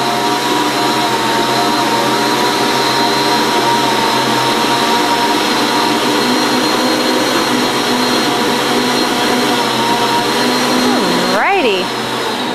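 Stand mixer kneading naan bread dough, a loud steady motor whir with a constant hum and whine held for about twelve seconds, then briefly dipping and warbling just before the end.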